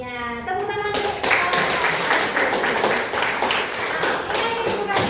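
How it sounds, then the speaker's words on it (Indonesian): Classroom applause for the best-presenting student group: dense, steady clapping from many pupils filling the room, with a few voices calling out near the start. "Tepuk tangan."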